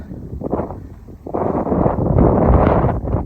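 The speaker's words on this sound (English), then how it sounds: "I know I've got some wind today" Wind gusting across open moorland in Devon, a rough broadband roar buffeting the microphone in uneven surges that build louder and steadier in the second half, with no voices.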